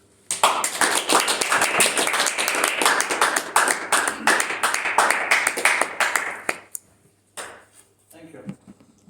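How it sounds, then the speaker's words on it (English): An audience claps steadily for about six seconds, a dense, even patter of many hands that stops abruptly, followed by a couple of scattered claps and a short spoken remark near the end. "And the same on the other side with the clapping."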